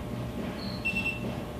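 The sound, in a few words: studio strobe flash ready beep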